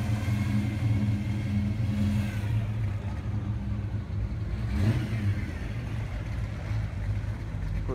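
Cars rolling past at a Sunday morning car cruise on Rancho and Craig, a steady low engine rumble with one louder vehicle swelling by midway, continuous and without speech.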